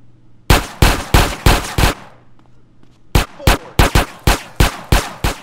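Rapid bursts of gunfire from a shootout in GTA San Andreas, two volleys of about five sharp shots each separated by a short lull, loud and close.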